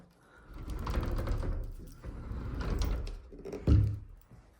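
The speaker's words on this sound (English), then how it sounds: "it does have the slider and doors for the closet" Sliding closet doors in a home roll along their track with a low, muffled rumble, moved back and forth and ending in a soft thud.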